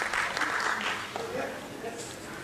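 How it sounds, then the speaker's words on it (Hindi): Audience applause at an evening tribute concert, a soft wash of clapping with a voice speaking over it. "जी जी जोरदार तालियां।"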